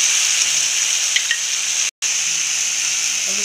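Capsicum sizzling steadily in a hot pan with masala, a loud continuous hiss with a few faint clinks and one brief cutout partway through.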